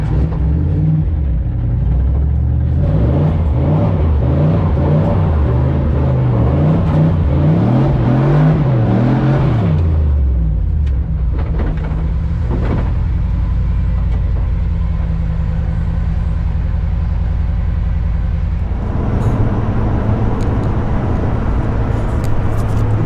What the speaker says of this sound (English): we're driving up to the drift event right now, towing the trailer